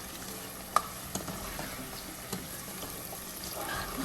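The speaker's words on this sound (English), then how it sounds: "I'm just going to fry it for a bit and then add the egusi mix to this" Frying in a pot for Nigerian egusi soup, a soft crackle and sizzle with a few sharp clinks of a spoon against the pot, fairly quiet and close, no talking.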